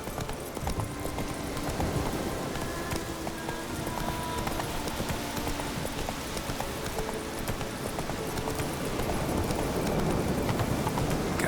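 The horse Roach gallops in The Witcher 3, with steady, rapid hoofbeats continuing throughout at an even loudness over a dense background.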